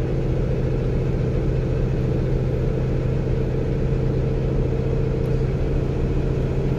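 A semi truck engine drones steadily while cruising east on the I-80 highway near Laramie, Wyoming, a continuous low rumble with road noise at constant loudness and no talking.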